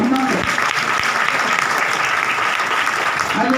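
A church congregation clapping in praise during a Hindi sermon, steady dense clapping that fills the room for several seconds without a break.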